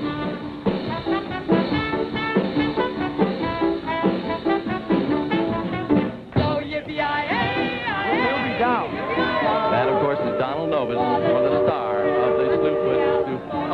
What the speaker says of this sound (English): That whistle you hear, ladies and gentlemen, means that the Mark Twain is ready down at the dock.